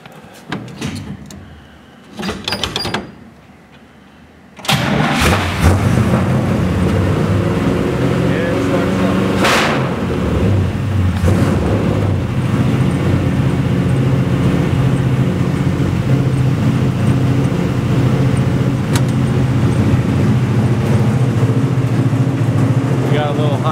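A Chevy car engine, cold and on choke, cranks after a few clunks and knocks, then catches around five seconds in and runs at a steady, loud idle, with a voice speaking briefly over it.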